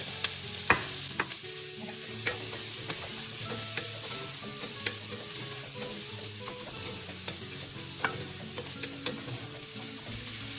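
Onions and garlic sautéing for Southern-style black-eyed peas, a close steady sizzle with frequent spoon clicks and scrapes against the pan as they are stirred, no speech.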